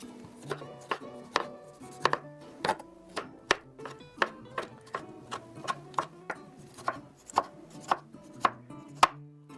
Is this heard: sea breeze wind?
no